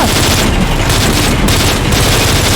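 Rapid automatic gunfire rattles loud and dense throughout a battle in Call of Duty Modern Warfare 3, with continuous bursts layered over heavy low rumble and no pause.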